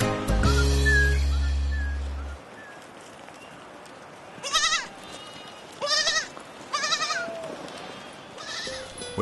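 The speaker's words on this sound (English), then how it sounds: "We're frequently meeting large numbers of goats." Goats bleat in several short, wavering calls at mid distance as a herd passes on a Nepal mountain trail, after a brief loud low hum at the start.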